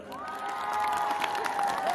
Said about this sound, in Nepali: परियारको नाममा ताली बजाउनुहोस् त।